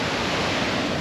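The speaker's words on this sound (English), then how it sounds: "This raging river." A raging, snowmelt-swollen river in Alaska rushes beside hot springs and a waterfall, a loud, steady broadband roar of churning water filling the brief moment with no voices.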